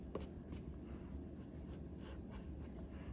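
Pencil scratching and rubbing on paper as lines are erased and cut back while drawing a cartoon character's ear, a steady close, soft scratchy texture with a few sharper strokes, alone without talk.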